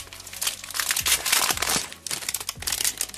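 Plastic packaging on a LEGO Star Wars magazine being torn open, a close, loud run of crinkling and crunching that comes in bursts with short pauses between them.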